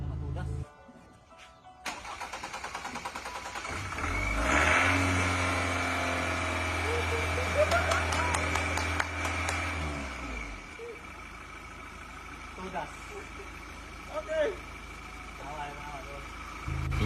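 A Ford Ranger pickup's engine, unused for about a year, cranks and catches after a quiet start, then runs with a steady low rumble and some revving before settling into a rough idle, with voices talking over it.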